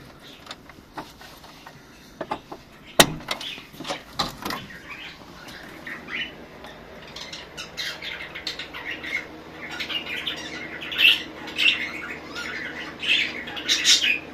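Budgies in an aviary squawk and chirp in scattered bursts, with faint wing flutter and rustling, building to louder calls in the second half.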